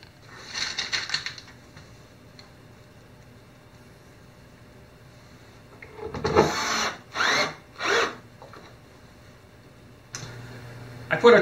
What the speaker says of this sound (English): Put a total of 14 screws through pre-drilled holes into the underside of the countertop